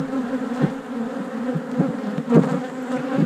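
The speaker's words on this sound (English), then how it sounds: "I just pinched that bee." Bees buzz steadily around an open hive colony being worked barehanded, a continuous close drone with a few louder passes as individual insects fly near.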